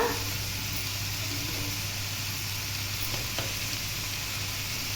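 Tomato pieces with salt fry in a pan with a steady, close, full sizzle that holds evenly throughout, with no talk.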